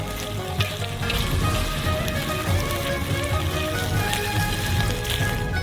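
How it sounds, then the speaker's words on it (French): Chopped green onions tossed and stirred in a hot wok with noodles, giving a steady, dense sizzle and crackle like rain on a surface, continuous and close throughout. "On les balance dans le wok"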